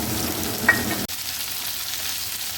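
Green chili and tomato sizzle in a frying pan as they are stirred, with a brief scrape partway through, after which the frying settles into a thinner, quieter hiss.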